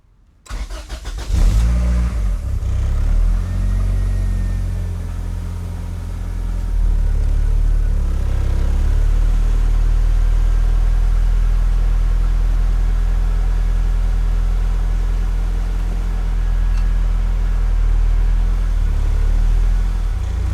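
A turbocharged Honda Integra project car cranks over and catches, then settles into a loud, steady idle rumble close by that continues without pause.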